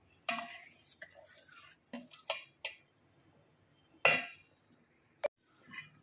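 A spoon stirs ghee into lentil and jaggery payasam in a pot, giving sparse scraping clinks and knocks against the metal. The sounds come in scattered bursts with quiet gaps between them and no talking.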